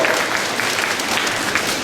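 Steady, dense applause fills a school entrance ceremony at a middle school, a crowd clapping continuously at even loudness for the short stretch with no voices on top.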